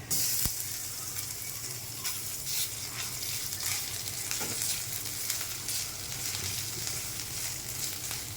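Onion and garlic fry in a tablespoon of oil as grated coconut is added, giving a loud, continuous close-up sizzle with stirring scrapes and a few sharp clicks, without speech.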